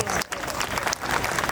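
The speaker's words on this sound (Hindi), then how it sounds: "मैं सबसे कहूँगी मोहसिन के लिए तालियां।" Audience applause in a hall at a hospital World Kidney Day event, a brief burst of crowd clapping with a short dip partway through, loud and close.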